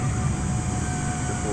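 A small airliner auxiliary power unit in Microsoft Flight Simulator 2020 winding down, a dense, steady whooshing turbine drone with a faint high whine, continuous and fairly loud throughout.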